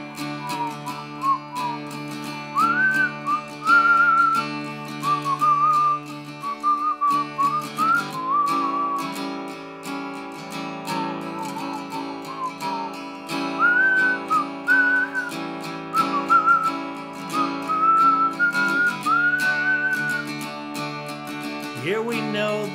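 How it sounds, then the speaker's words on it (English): Someone whistles a Christmas melody clearly and close up, carrying the tune phrase by phrase over a steady musical accompaniment. "Now try to whistle your way through it."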